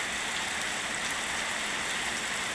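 Steady, dense hiss of rain falling beyond a house's eaves, an even wash of sound with no pauses and no voices.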